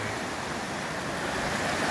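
Rushing water pours continuously at Dunn's Falls in Maine, a broad, steady hiss of the waterfall over rocks, close and even with no voices.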